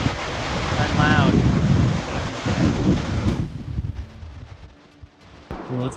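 Roar of Yellowstone's Lower Falls, a 308-foot waterfall flowing at about 8,000 gallons per second, heard close as a loud, steady broadband rush with wind buffeting the microphone, easing slightly toward the end.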